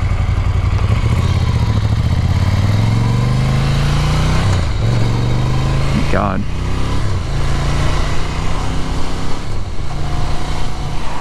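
A 2019 Ducati Scrambler Cafe Racer motorcycle out on a road ride, its engine droning steadily and loud as it rises through the gears, with wind rush and a rider speaking briefly over it.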